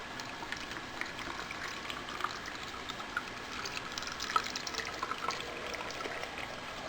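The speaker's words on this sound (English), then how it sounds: "you're going to take your brine that you made and pour that over the top of your pickles." Homemade brine poured over pickles in a jar, a soft continuous trickle and splash with small bubbling pops, faint and close with no talking.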